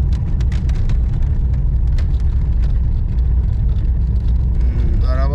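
A heavily loaded car labours up a steep hillside road in olive-growing country, its engine a loud, constant drone close by, with scattered light clicks and rattles over it and no speech.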